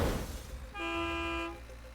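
A single sustained truck horn blast sounds in Totally Reliable Delivery Service, a loud, steady, slightly buzzy honk lasting under a second, following a burst of engine and impact noise.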